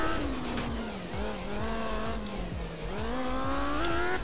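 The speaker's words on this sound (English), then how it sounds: "High revs." A rally car engine in Art of Rally screams at high revs, the pitch climbing and dropping with repeated gear shifts, mixed with tyre noise on a dry Norwegian stage, loud and continuous throughout.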